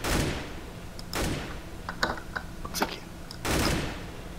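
AK rifle gunfire in a Counter-Strike gun game match: bursts of shots, a loud one at the start, another around one second, scattered sharp cracks in the middle and a final burst near the end, with no talk.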